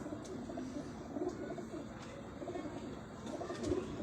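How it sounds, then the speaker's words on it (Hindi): Ferozpuri 'chuha' pigeons, broad-chested fancy pigeons, coo softly in repeated low phrases, fairly faint against a quiet background. "अब ये चूहे कबूतर हैं जी"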